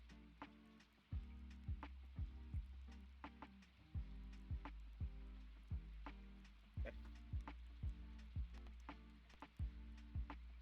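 Steady rain falls in the farming video game Stardew Valley, a constant soft wash broken by repeated plucky tones and light pops at an even pace.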